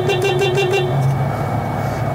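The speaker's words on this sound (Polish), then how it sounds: "Tutaj musimy klaksonu użyć," A car horn in a vehicle bought at a Copart auction in Dubai sounds in a steady, loud honk for about a second, over a constant hum of engine and cabin noise.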